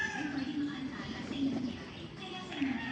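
Racing homer and tippler pigeons in a loft cooing, soft repeated low throaty coos rising and falling over steady background noise, fairly close and continuous.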